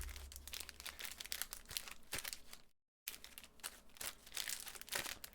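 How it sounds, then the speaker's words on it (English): Magic: The Gathering booster packs are shuffled by hand at close range, making a quiet, continuous crinkle and rustle of foil wrappers with a brief break partway through. "the packs are getting shuffled"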